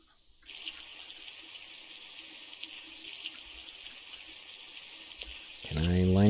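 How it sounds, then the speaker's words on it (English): A water container fills steadily from a tap in The Long Drive video game, a continuous hissing stream at moderate level, ending as a voice begins talking. "What I do need is some water. So how's about we put some water in there?"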